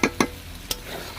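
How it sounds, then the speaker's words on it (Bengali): Chillies fry in a pan with meat over a wood-fired stove while being stirred, with a low continuous sizzle broken by three sharp scraping strokes of the spoon. "লঙ্কাটা কষানো হচ্ছে"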